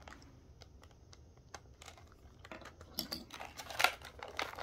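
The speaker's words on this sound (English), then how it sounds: "I'll cut this open." A small knife cutting into pen packaging, with close, quiet scratches and clicks that grow busier and louder toward the end, including a few sharp snaps of plastic or card.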